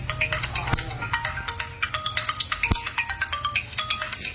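A cellphone ringtone chimes in a quick, bright, repeating melodic pattern, close and steady, with faint background noise and a couple of sharp knocks.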